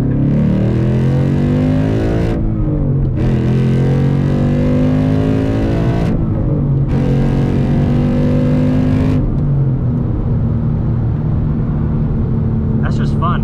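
A Mazda Miata running on E85 fuel drives along with a loud, close engine drone, revving up and shifting through gears in several stepped pulls before settling into a steady cruise.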